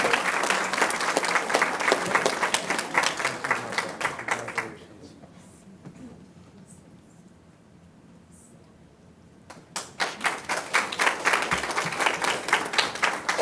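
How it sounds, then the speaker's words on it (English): Audience applause for graduating students at a Town of Orange, Connecticut Board of Education meeting: dense clapping that fades into quiet for several seconds, then a fresh burst of clapping returns loudly. "one last round of applause for all our students"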